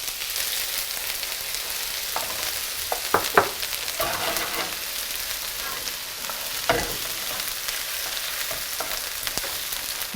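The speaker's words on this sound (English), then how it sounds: "you have to place your pot over medium-high heat and add some finely chopped onions." Finely chopped onions fry in a pot over medium-high heat, giving a steady close sizzle throughout with a few scattered clicks and scrapes of stirring.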